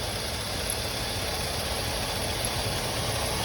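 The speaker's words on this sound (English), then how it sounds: "the AC compressor, there is something down there spinning" A 2006 Chevy Silverado engine idles steadily with its AC compressor belt spinning, a constant low rumble and whirring hum that stays even throughout with no voices.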